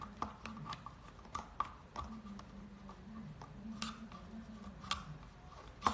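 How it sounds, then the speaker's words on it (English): Scissors prying glue out of denim and leather pieces in a craft project give off a series of sharp clicks and snips, irregular and fairly close, over a low background hum. "prying out glue with scissors"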